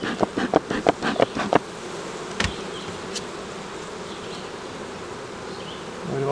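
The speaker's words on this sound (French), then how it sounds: "il y a quelques abeilles dans l'étage du haut" Honey bees buzz around an opened beehive's upper box, a series of close, sharp buzzing passes at first, then a softer steady hum of insects in the background with occasional nearby fly-bys.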